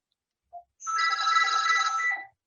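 A phone rings once in a single sustained electronic trill lasting about a second and a half, preceded by a faint short blip, clear and close with no talking.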